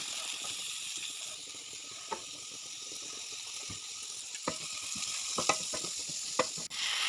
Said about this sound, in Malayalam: ഇനി അതേ പാനിലേക്ക് കുറച്ച് വെളിച്ചെണ്ണ ഒഴിച്ചിട്ട് സവാളയും കുറച്ച് കറിവേപ്പിലയും കൂടെ ചേർത്തിട്ട് നന്നായിട്ടൊന്ന് വഴറ്റിയെടുക്കുക